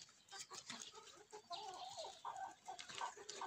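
Older roosters, mostly Sussex, cluck and call in a free-range enclosure on a farm, faint and somewhat distant, in irregular bursts with no voices.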